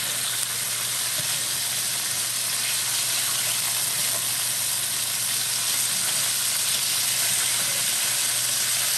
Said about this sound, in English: it's releasing plenty of fat into the pan